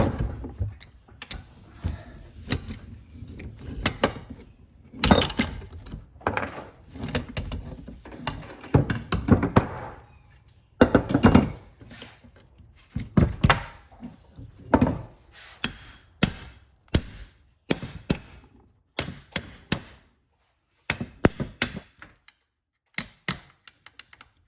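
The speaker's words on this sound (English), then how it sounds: "Now the rest I think we're going to have to hammer out." Repeated metallic hammer blows knocking out a control arm on a 2005 Ford Five Hundred, in irregular bursts, some rapid and clustered, others spaced apart, close by with mechanical clanks between strikes.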